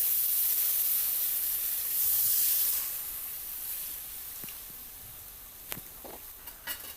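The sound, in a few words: tamarind water added to simmering karunai kilangu kuzhambu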